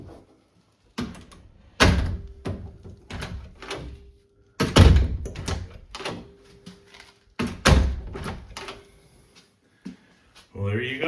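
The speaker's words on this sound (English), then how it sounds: "Let's check and see how the door closes" Door with a newly installed handle and strike plate closes repeatedly, several solid thunks and latch clicks spaced over several seconds, with soft handling noises between them.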